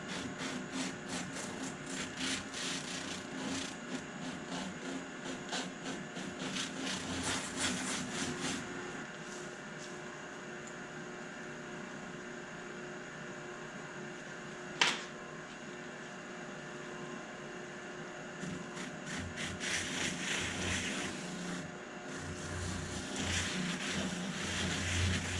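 Wire wheel scrubbing grease and fat from the base of a turkey tail's skin and feathers, a steady rough whirring with bursts of rapid scratchy rasping that start and stop.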